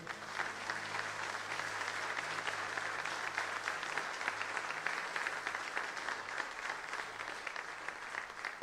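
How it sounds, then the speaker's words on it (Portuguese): A church congregation applauding during a sermon, a broad continuous roll of many clapping hands filling the room, even in level and sustained, somewhat distant with no voice over it. "vamos aplaudir ao Senhor"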